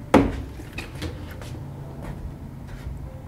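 A hidden wood-panelled door in a historic house swings shut with one sharp wooden knock at the start, followed by faint rattles and a few light taps in a quiet room.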